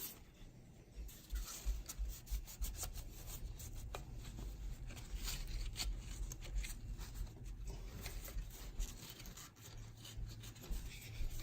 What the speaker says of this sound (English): we want to clean all of that old grease off.